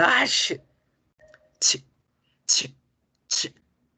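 A voice imitates a moderate sneeze to demonstrate the English "ch" sound, giving three short, crisp hissing bursts at a steady pace after a brief stretch of speech.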